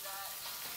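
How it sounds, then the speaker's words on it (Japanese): Takoyaki batter sizzles and crackles in a hot takoyaki pan, a steady close frying hiss heard alone for under a second. "ジュージューいってますね。"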